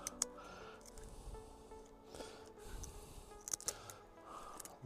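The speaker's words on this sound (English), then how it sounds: "Okay, so cut these fins off first." Scissors cutting the fins off a sea bass, a few faint snips and crunchy clicks amid quiet handling noise, close but low in level, with no talk.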